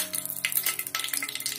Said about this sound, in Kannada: ಸಾಸಿವೆಯನ್ನು ಹಾಕ್ತಿದ್ದೀವಿ.